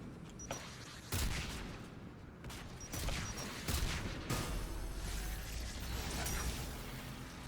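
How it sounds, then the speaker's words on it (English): Gunfire in a video game battle about helping the Quarians take back their home, with rapid bursts of shots and mechanical clatter in a busy, continuous fight. "Oh, hang on, gun's firing."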